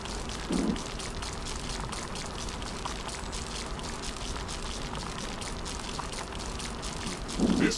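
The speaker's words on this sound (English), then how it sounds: "Air humidity is rising. It's going to rain in a moment." Rain falls steadily in the sci-fi base-building game The Riftbreaker, a constant dense hiss of drops lasting throughout, with two brief louder splashes near the start and end and no voices.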